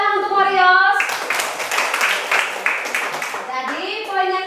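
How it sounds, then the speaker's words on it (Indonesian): A classroom of children clapping for a classmate, a short burst of many hands in the middle, with a teacher speaking before and after it. "Tepuk tangan untuk Morios."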